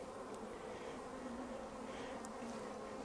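Honey bees buzz at an open hive in a steady, dense drone that hangs close to the microphone and stays fairly quiet throughout, with no speech.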